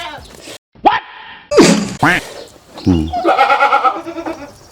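Nanny goat with two newborn kids bleating, several loud close wavering calls in quick succession, one long quavering bleat at the end.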